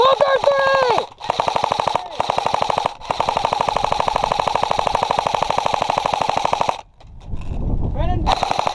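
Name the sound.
airsoft guns firing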